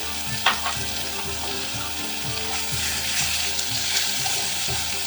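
Food fries in a pot for an Irish stew, a loud, close, continuous sizzle with occasional stirring scrapes and clunks and no voices.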